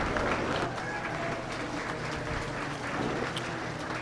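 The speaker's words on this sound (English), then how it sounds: "giving all the exhibitors a big round of applause" Applause for the exhibitors at the 2024 Dodge County Fair beef cattle and feeder calves judging, steady clapping from a crowd in a show ring, sustained and moderately loud throughout.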